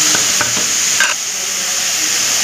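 Tomatoes and onions cook with salt in a pan, a close steady sizzle with a few quick spoon scrapes and stirring knocks at the start.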